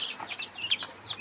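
Chickens being fed coconut juice, clucking and chirping close by in a quick, busy cluster of calls with some wing flutter, no voices.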